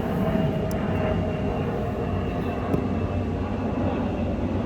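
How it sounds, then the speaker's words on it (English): A plane passing overhead gives a steady, fairly loud broadband engine roar with a low rumble that holds evenly throughout, with no voices over it. "there's a plane"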